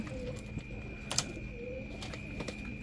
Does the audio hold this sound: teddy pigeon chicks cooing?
yes